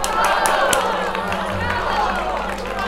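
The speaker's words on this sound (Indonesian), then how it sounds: "Tepuk tangannya." Audience applause and cheering welcoming a guest at an Indonesian show event in Lombok, a loud continuous crowd roar with clapping and voices mixed together throughout.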